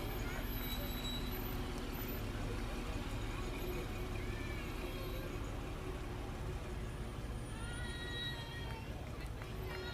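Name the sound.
Shortsville Manchester Fire Department vehicle passing in parade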